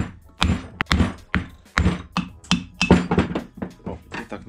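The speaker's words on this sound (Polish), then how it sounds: "trzeba mu troszeczkę pomóc tutaj młotkiem" Hammer blows knocking the crankshaft out of a Komar 2351 moped engine's crankcase: a rapid series of a dozen or more sharp metallic thunks and taps, close and loud, with no talk.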